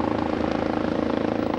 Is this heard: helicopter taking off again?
yes